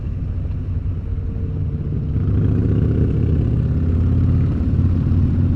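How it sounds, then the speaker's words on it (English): A Dyna motorcycle with its exhaust baffle removed gives a deep, loud rumbling drone close by while riding. The engine swells slightly louder after a couple of seconds and holds steady, with no talk. "He took the baffle out of his bike yesterday"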